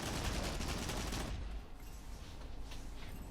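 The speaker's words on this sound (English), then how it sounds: "They're like Gatling gun cannons, these are." Rapid, dense Gatling-gun cannon fire from the Nioh 3 video game, a loud continuous burst of shots that cuts off about halfway, leaving softer scattered firing and rumble behind.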